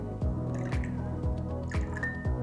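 Alkaline ionized water is added in small amounts to an acidic test liquid, making a few soft, evenly spaced drips and splashes over a steady low electrical hum.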